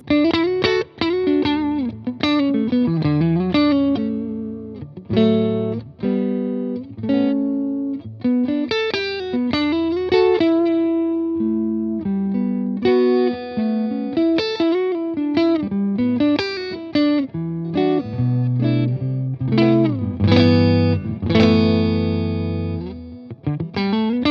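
A distorted electric guitar through an orange amp with a Tone King Imperial preamp plays a melodic riff, notes ringing out into a long, washy reverb tail that fills the space between phrases.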